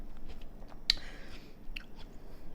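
Crunchy fruit bitten and chewed close to the mic, a sharp crisp bite followed by softer chewing crunches and another small crunch.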